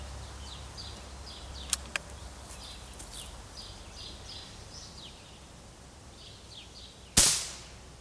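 A QB78 air rifle, a wood and steel gun powered by two CO2 cartridges, fires one sharp, loud shot outdoors near the end, preceded by a couple of faint clicks over steady insect and bird ambience.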